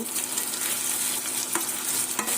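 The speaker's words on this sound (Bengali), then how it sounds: "এখানে ডিম ভুনো করতেছি" Eggs stir-fried in a pan on a home kitchen stove give off a steady, close sizzle with faint scraping and stirring clicks, and no one speaks.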